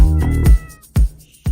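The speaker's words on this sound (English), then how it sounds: "Be quiet, kitty. Everyone's asleep." A cat gives three meows in quick succession, loud and close: a long drawn-out cry first, then two shorter calls, with a quiet room behind them.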